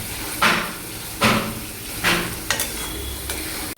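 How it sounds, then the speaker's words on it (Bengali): A spatula stirs chicken curry in a pan over sizzling oil, giving three or four distinct scraping strokes about a second apart, close and moderately loud, with a constant frying hiss running underneath. "এখন আমার মেয়েটা যে খুন্তি নাড়াচ্ছে"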